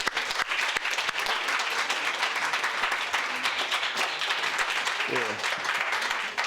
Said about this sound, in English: let's give another applause for the regional reports